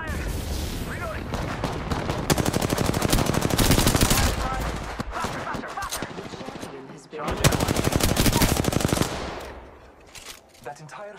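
Automatic weapon fire in the Apex Legends battle royale game, rapid bursts of gunshots rattling loudly and almost continuously, pausing briefly before another long volley and then fading out.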